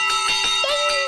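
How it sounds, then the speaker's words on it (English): A toy fire engine's big bell from a cartoon rings steadily, its bright metallic tones repeating in a quick rhythm, loud and close with no voices over it. "There's a ladder for climbing, a hose for squirting water, and a big bell to ring."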